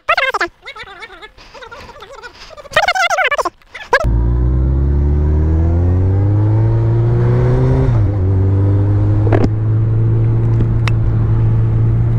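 A Honda CBR 1100 XX Blackbird motorcycle engine revs up hard and holds a loud, steady drone, rising slightly in pitch, after a few seconds of talking.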